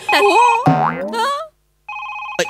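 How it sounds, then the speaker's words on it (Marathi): New touchscreen phone ringing on a comedy stage show: sweeping, bouncy electronic tones and a warbling effect, then a pause and a short steady two-tone electronic ring, loud and close. "फोन आला, फोन आला, फोन आला."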